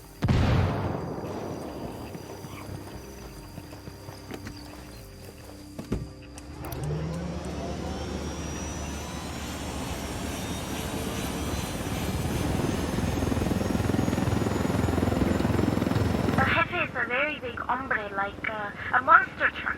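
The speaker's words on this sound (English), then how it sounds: "Let's take your helicopter." Helicopter in the video game Ghost Recon: a sustained rotor and engine drone that builds over many seconds, with game voices talking at the start and a sharp tonal change near the end.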